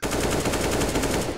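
Rapid automatic gunfire shooting through walls during a competitive Counter-Strike match, a loud continuous burst of fast regular shots with no pause across the whole stretch.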